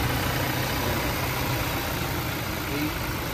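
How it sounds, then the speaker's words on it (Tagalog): A Toyota Hiace 2025 commuter van's D4D diesel engine idles close by, a steady, even low rumble with no change in pace or level throughout, with no talking heard. "Legendary D4D ang makina natin."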